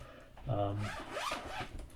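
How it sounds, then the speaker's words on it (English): A zipper closes around a Z Folio card binder in one steady, close zip lasting about two seconds, with some voice mixed in. "I know some of you love the sound of a good Z Folio zip up"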